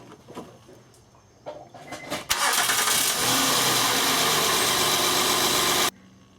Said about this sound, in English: let's see if the car starts